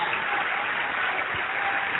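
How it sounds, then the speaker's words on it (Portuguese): A church congregation applauding, a continuous, even wash of many clapping hands, dull and band-limited, with no distinct individual claps standing out. "vamos dar a melhor salva de palmas para a palavra de Deus"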